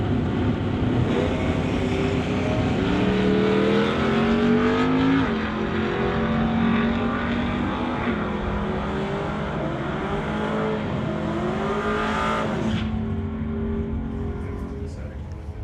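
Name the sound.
drag race launch, Dodge Dart versus Chevrolet Nova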